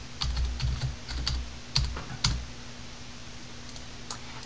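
Typing on a computer keyboard: a quick cluster of light key clicks and taps, close and clear, fading to a few isolated keystrokes near the end with no talking.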